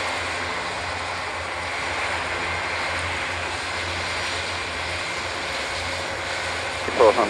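A Hercules transport aircraft taxis around an airfield loop, its propeller engines giving a steady, broad droning roar that holds evenly throughout, with a brief clatter at the very end.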